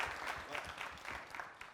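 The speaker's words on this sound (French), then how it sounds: "Merci de faire beaucoup d'applaudissements pour M." An audience claps for a guest, a cultural monitor, at an event about prison life in Burkina Faso; a fairly faint, uneven patter of clapping from a modest crowd that tapers slightly toward the end.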